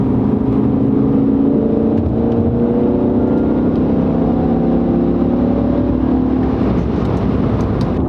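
The high-revving 507-horsepower V10 of a BMW E60 M5 holds a loud, continuous engine drone. It climbs and falls slightly in pitch as it revs, with no one talking over it.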